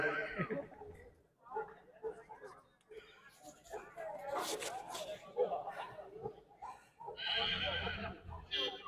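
Horses whinny and neigh among tents at the Maghi fair in Sri Muktsar Sahib, Punjab, a busy outdoor scene, with people talking nearby and occasional hoof clatter.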